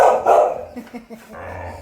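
Dogs bark in a park, a few close, loud barks and yips in short bursts over outdoor background noise.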